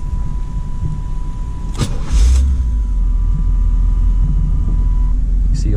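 A 1982 Chevrolet Camaro Z28 Indy 500 Pace Car engine cranks briefly and catches, then settles into a steady, close, rumbling idle.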